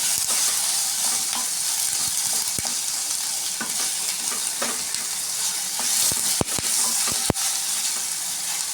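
Onion and tomato sauté in a pan for a chutney, giving a loud, continuous sizzle with repeated spatula scrapes and a few sharp clicks near the end.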